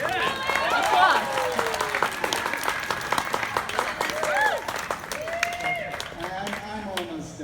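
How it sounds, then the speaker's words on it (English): An audience applauds continuously in a room, a dense wash of clapping with a voice speaking over it throughout. "Applause."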